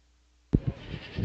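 At a dairy goat show at a state fair, a goat gives a short bleat close by after a silence. A few quieter, rougher bleats follow against a low background murmur.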